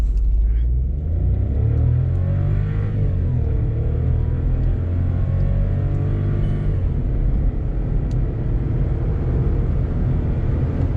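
A VW Polo car engine revving up to about 2000 RPM and accelerating on the road, a loud deep rumble that climbs and then settles into a steady driving drone.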